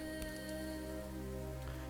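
Rain falls steadily in a video game scene, a soft, even patter of drops under a low constant hum, with no voices.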